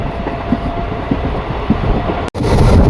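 A new local passenger train runs from Rajkot to Porbandar, its wheels clattering steadily over the rail joints in a loud, close, rhythmic rumble that keeps going throughout.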